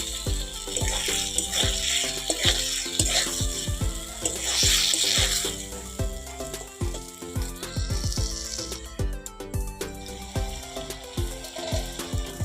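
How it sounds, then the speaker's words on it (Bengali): Soybean chunks and potatoes being sautéed in a pan, a soft steady sizzle under repeated clattering as a spatula scrapes and stirs the pieces in quick rhythmic strokes. "একটু ভালো করে কষিয়ে নেব।"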